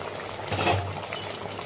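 Curry with aubergines, slit green chillies and hilsa in mustard oil bubbles in a pan, a soft steady simmer that swells briefly mid-way, close and fairly quiet with no talk.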